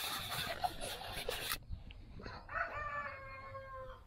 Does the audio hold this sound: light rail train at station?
no